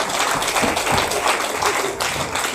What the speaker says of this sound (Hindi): एक बार जोरदार तालियां बजाएं हमारे पास।